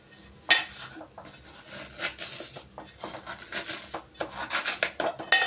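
A metal spoon stirs shevaya (vermicelli) as it dry-roasts in a pan over a low flame, giving a run of close, irregular scraping and clinking strokes that carry on steadily with no talk.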